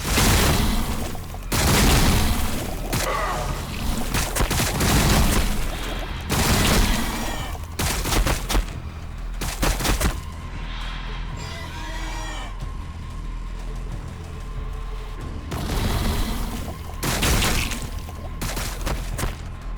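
Battle in the video game Warhammer 40,000: Battlesector brings repeated loud volleys of gunfire and booming explosions in short, closely spaced bursts, with brief lulls between them.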